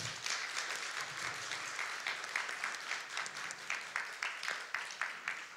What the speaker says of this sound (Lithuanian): negailėkit jiem aplodismentų